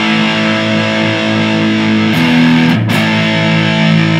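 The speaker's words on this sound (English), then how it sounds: "One thing I like about the distortion on the Bias heads is that it does compress a bit." Heavily distorted electric guitar through a BIAS amp head holds sustained chords, loud and compressed, with a brief pick scrape in the middle.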